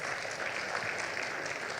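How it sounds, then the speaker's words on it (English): Applause from the audience at a digital health innovation conference, a steady wash of many hands clapping at moderate volume for a short stretch. "Give her a round of applause."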